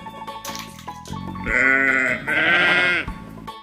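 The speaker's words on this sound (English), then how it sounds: "sheep" Sheep bleating several times in short, loud, close wavering cries, two long drawn-out calls in the middle, with clinking toy-like sounds between.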